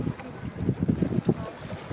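Gentle, faint water sounds during a calm yoga relaxation session: soft, low, irregular lapping and swishing with light airy noise.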